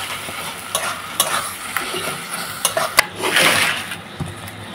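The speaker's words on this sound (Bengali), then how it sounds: "তো এরপর মাংসগুলো দিয়ে দিচ্ছি এক এক করে।" Marinated meat pieces go one by one into hot oil and cooked-down spice paste in a pot on a clay stove, with steady sizzling, stirring scrapes and a few metallic clinks.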